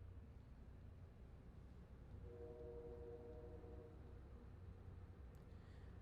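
A distant train sounds a faint, sustained horn for about two seconds beneath a steady low background hum, with no one talking.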